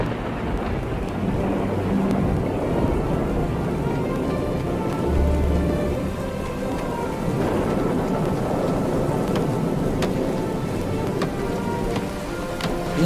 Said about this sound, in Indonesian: Lalu turunlah hujan